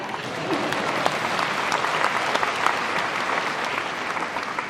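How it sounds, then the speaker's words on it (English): A large audience at the Oculus Connect keynote claps steadily, a dense, even wash of applause at moderate level from start to finish without voices. "You can clap for that."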